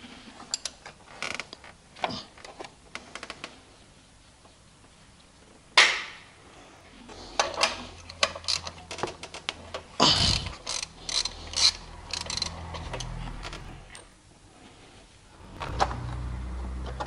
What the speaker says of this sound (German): wir können uns jetzt ein Werkzeug zur Hand nehmen mit einer 13er Nuss und können die Spannrolle entspannen und den Riemen herunternehmen